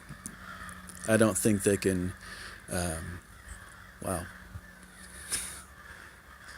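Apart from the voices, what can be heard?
birds calling outdoors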